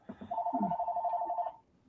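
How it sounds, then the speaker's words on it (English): A telephone ringing indoors, a single electronic warbling ring lasting just over a second, fairly quiet, after a few brief vocal sounds from people nearby. "Somebody's got the phone."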